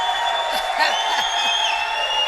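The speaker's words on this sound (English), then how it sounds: "And this crowd is going nuts." Racquetball crowd at the 2017 US Open doubles final in Minneapolis cheering and whooping steadily, a dense roar of voices with shouts rising and falling behind a commentator talking over it.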